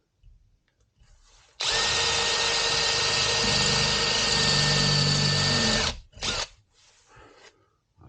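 A power drill bores into a flat steel bar with a loud, steady whine that runs for about four seconds, then stops and is followed by a couple of short bursts.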